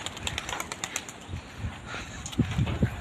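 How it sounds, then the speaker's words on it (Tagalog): Birds fly past with a rapid flurry of flapping wings, soft fluttering pulses that grow louder and closer toward the end over outdoor background noise, without talking. "Eh mga ibon, dire-diretso na."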